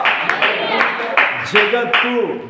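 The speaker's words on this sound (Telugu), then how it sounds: "చప్పట్లు కొడదాం" A church congregation claps hands in a quick run of sharp, uneven bursts, loud and close, with a voice speaking over and between the claps.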